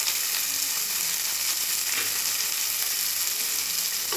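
Sliced big onions and four slit green chillies fry in hot oil for a cabbage and peas stir-fry, giving a steady, close, even sizzle throughout with no voices.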